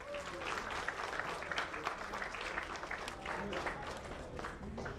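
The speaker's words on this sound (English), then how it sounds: "Can we have a huge round of applause?" Crowd applause at a football league trophy unveiling ceremony, a sustained, fairly distant wash of many people clapping with scattered louder claps and faint voices mixed in.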